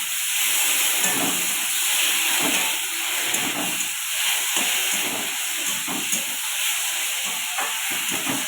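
Loote fish (Bombay duck) sizzles in a hot pan with no water added, giving a steady, close, crackling hiss that carries on throughout with small pops.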